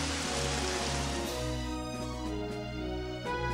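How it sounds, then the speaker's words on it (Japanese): Heavy rain falls during a Pokémon Stadium Gold and Silver battle, a steady synthetic rain hiss layered over looping game music with sustained tones, continuous and moderately loud. "あっと激しい雨が降り始めました"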